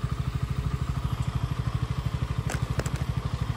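A Duke 200 motorcycle in somewhat worn condition idles steadily up close, its rapid, even thumping continuing throughout with a few faint clicks near the end.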